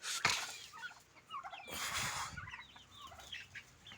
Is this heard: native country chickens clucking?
yes